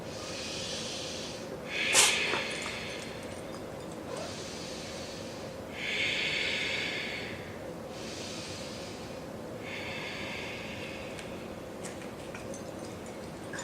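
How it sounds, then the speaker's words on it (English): Rhythmic yoga breathing with forceful exhales as the belly is squeezed in: a series of short, sharp, close-up puffs of air spaced about two seconds apart, with no talking. "Squeeze your belly in on your exhale."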